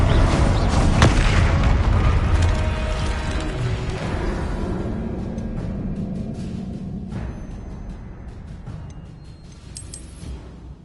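A Confringo fire spell bursts in the Hogwarts Legacy video game: a loud booming blast at the start with a sharp crack, then a long rumbling decay amid combat noise that slowly fades over several seconds.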